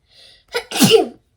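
A single close, loud sneeze: a short inhaled catch followed by a sharp explosive burst, in otherwise quiet surroundings.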